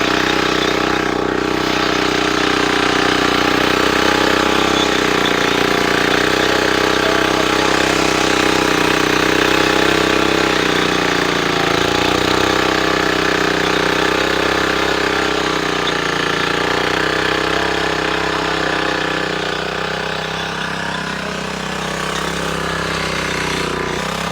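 A 7 HP Kama engine powering a plough runs steadily and loudly throughout, its mid-pitched mechanical drone holding an even, throbbing rhythm.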